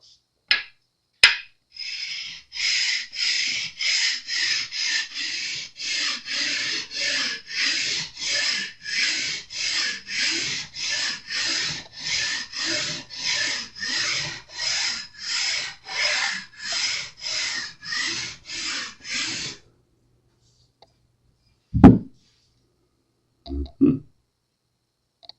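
Sandpaper rubbed back and forth over the frets of a Fender Telecaster, a long run of evenly spaced, close raspy strokes, followed by silence and a few knocks.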